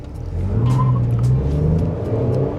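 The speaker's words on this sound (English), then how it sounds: "You did hear a little bit of a wheel spin there when I took off" Loud, close V6 engine of a 2021 Toyota Kluger GX revving as it pulls away from lights with wheel spin, pitch climbing steadily, with brief squeaky tyre chirps over the roar.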